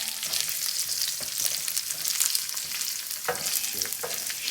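Bitter melon sizzles steadily as it fries in a pan with garlic, a loud, continuous hiss broken by a few scraping stirs, with no talk.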